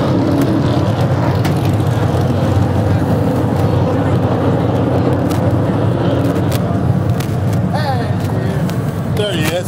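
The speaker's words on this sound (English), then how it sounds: "We're going to pause when the cars go by" Race cars roar past on a speedway track in a steady, loud engine drone that fills the whole stretch, with people talking faintly beneath.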